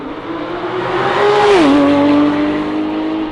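A Porsche 911 GT3 RS exhaust revving on a cold day, loud and close, its tone climbing to a peak and then dropping back to a steady, resonant idle drone with no talking.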